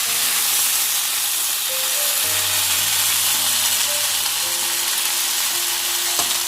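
Ivy gourd dusted with pepper powder frying in a pan, a steady loud sizzle and hiss throughout while it is stirred, with faint scraping underneath and no voices.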